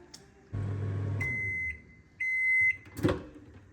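A microwave oven hums in two stretches, separated by a short pause, with a single beep and a click near the end; quiet room, no talking.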